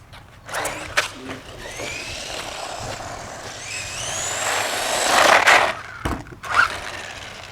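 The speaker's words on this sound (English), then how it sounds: "So that's the Buggy driving around." A Simrex CR-08 off-road RC buggy driving around, its small electric motor whining up and down in pitch, with clattering knocks and bumps and a louder surge near the end.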